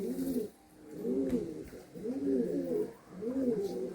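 Andhra pigeons coo in a repeated low, bubbling rhythm, four rolling phrases with brief pauses, fairly close and moderately quiet against faint background noise.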